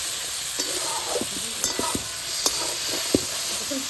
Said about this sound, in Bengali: হালকা জল দিয়ে মশলাটাকে আমি পুরোটা মিশিয়ে